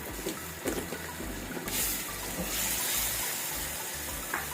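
A glass of water poured into a pot of potatoes with spices for Punjabi achari aloo, a continuous hissing splash that grows into a steady rush and sizzle, heard close and fairly quiet.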